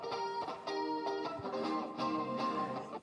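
Electric guitar played through an amplifier with an overly bright, thin, buzzy tone, sustained ringing chords and notes picked up close and alone, steady and moderately loud throughout.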